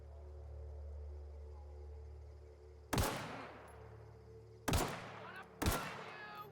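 Gunfire in the video game The Outer Worlds: three sharp, loud shots spaced a second or two apart, each with a brief ringing tail, over a quiet low hum.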